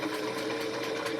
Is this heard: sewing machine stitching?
yes